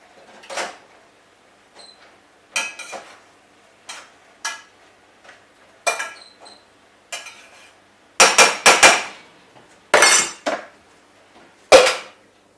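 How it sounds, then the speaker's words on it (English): A spoon scrapes and knocks against a pan while mushrooms are stirred for a chicken casserole, giving a series of sharp, separate clatters with quiet gaps and a louder, busier run toward the end, no talk. "Let's give them a bit of a stir."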